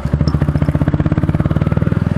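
A Royal Enfield Meteor 350 pulls away in second gear at low revs, its exhaust giving a close, loud, evenly pulsing thump that holds steady throughout.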